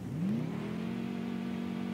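A mini truck in the Baja off-road racing video game revs at the start line: one steady, continuous engine drone that climbs briefly and then holds high under load, close and fairly loud, with no voices.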